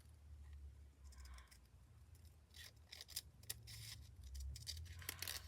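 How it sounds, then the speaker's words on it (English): Scissors cut through plain green fabric for a stitching project, with several crisp close snips clustered in the second half over a low room hum. "gotta cut this one"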